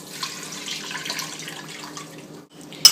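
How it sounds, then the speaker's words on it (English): Water pours steadily into a pot of sauerkraut for roast pork and dumplings, a soft splashing stream that runs for a few seconds, briefly stops, then ends with a small clink. "Let's add 5 cups of water"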